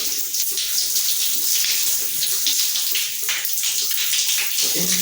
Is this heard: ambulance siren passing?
no